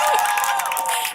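Graduates at a Georgia Tech commencement ceremony cheering on cue, a dense, loud burst of shouting and whooping voices in a large hall.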